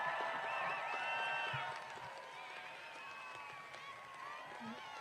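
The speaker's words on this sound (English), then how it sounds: "Now they cheering" Crowd cheering and whooping at a union rally stage, a sustained wash of voices and whistles that is loudest early and then eases to a steadier, quieter roar.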